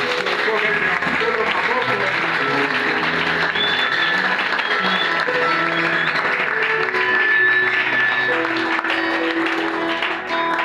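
A church congregation applauds and cheers for the Lord, sustained clapping and voices blending into a loud, continuous wash under a pastor's sermon setting.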